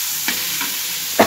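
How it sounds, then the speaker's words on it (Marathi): Chili thecha with tomato frying in oil: a steady, close sizzle with a few soft stirring scrapes, no talking. "आता हे जे आपल्याला ना आता मस्त तेलात फ्राय करून घ्यायचं ठेचा"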